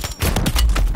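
Gunfire in the Warzone video game, a short burst of several sharp rapid shots in quick succession.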